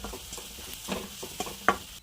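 Cumin, chili, chutney, salt and crushed peanut powder roast in a pan, giving a faint soft sizzle with scattered scraping stirs and a sharper clink near the end.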